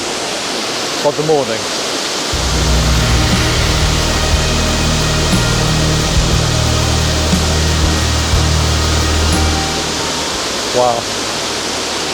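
A Scottish waterfall on the NC500 route roars as a steady, loud broadband rush, with brief exclamations from a person near the start and end.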